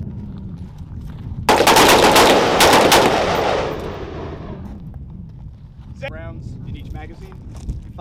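Gunfire erupts in a rapid, loud burst lasting about two seconds during a joint reflexive-fire military training exercise with partner nations, then fades out. A voice speaks briefly afterward over outdoor background noise.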